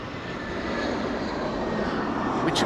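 An airplane landing at Amsterdam Schiphol Airport, a steady broad engine roar heard from outside and holding loud throughout.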